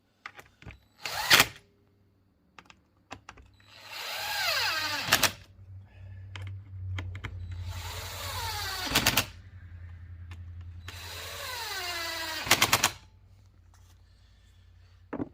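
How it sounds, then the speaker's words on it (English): An impact gun on its lowest setting fires rapid rattling bursts while tightening screws on a Husqvarna 455 Rancher chainsaw during reassembly, with three or four long whirring runs and sharp clicks in between, loud and close with no talk. "If you have an impact gun, set it on the lowest setting, because you know most of the time you don't want to really tighten this up"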